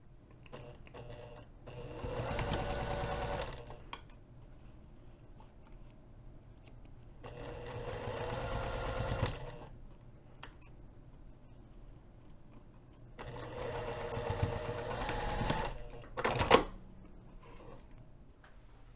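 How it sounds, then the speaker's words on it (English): A sewing machine stitches a fabric edge with a quarter-inch seam allowance on a hinged zipper pocket for a bag, running in three rapid mechanical bursts separated by quiet gaps, with a sharp click near the end. "so we're going to sew this edge, again using 1/4 of an inch seam allowance"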